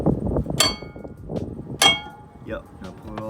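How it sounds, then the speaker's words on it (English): A hammer strikes a rusted-on car brake rotor, giving two loud ringing metallic clangs with softer knocks between, close by. "grab that hammer and start fucking spinning this and smacking it because it's rusted on."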